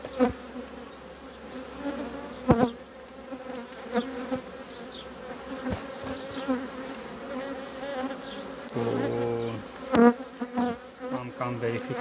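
Honey bees hum at an open hive during a brood nest inspection, a steady close buzzing drone with a few sharp knocks and a brief louder tonal burst near the end.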